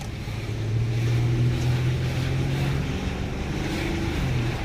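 A 2012 Chevy Impala with a P1336 throttle fault accelerates on a test drive, its engine a steady low droning hum with a rising rumble and road and wind noise filling the cabin.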